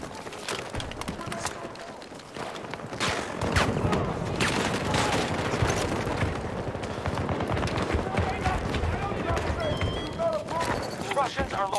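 Rapid gunfire and scattered shots in Battlefield 2042 combat, moderately loud and continuous, with voices and radio callouts mixed over the shooting.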